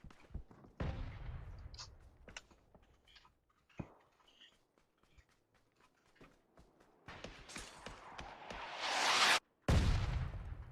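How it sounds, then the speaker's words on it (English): Mortar fire in an esports shooter video game comes as scattered thuds and sharp blasts, with sparse impacts early on and a loud, dense burst of explosions near the end. "here come the mortars, baby"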